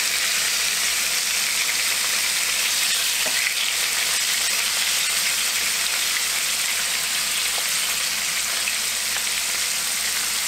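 Battered chicken fries in a pan after the pieces are turned, a loud, dense, continuous sizzle like rain that holds steady with no speech.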